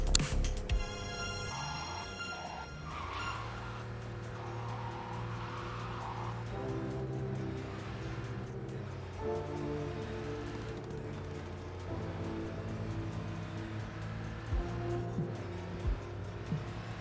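A Porsche drives through the city in Cyberpunk 2077, a sustained engine drone with shifting pitch and brief tire noise, backed by steady in-game music.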